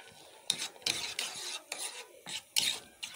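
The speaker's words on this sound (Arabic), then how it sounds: "ونقلبها برضو تقليبه كويسه" A spoon stirs koshari sauce in a pot with about eight scraping, rasping strokes in an uneven rhythm, close and moderately quiet, with no talking.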